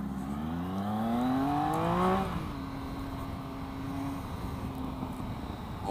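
A 125cc motorcycle engine revs upward in a rising whine, then drops sharply as it shifts into second gear and settles into a steadier drone, close and moderately loud.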